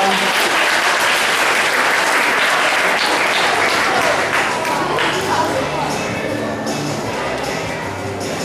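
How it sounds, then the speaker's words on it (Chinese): Audience applause at a church Sunday school hymn singing competition, sustained dense clapping filling the room at an even level for the whole stretch, with a crowd murmur underneath. "拍手鼓掌"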